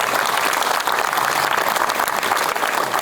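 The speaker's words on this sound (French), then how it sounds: "on peut l'applaudir s'il vous plaît à nouveau" An opera audience applauds soprano Marie Sass and the full Paris Opéra orchestra, a dense, steady wash of clapping that fills the whole stretch without pause.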